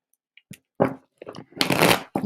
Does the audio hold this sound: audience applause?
no